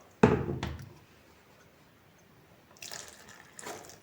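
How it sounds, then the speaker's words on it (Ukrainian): A brief splashing pour of boiling water from a cup into flour for dumpling dough near the start, then quiet, followed by a couple of softer liquid trickles and clinks. "І цією ж чашкою я наливаю кип'яток"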